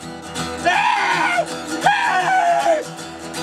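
People imitate screaming with two long, loud vocal wails rising and falling, one after another, close to the microphone and with no other sound around them.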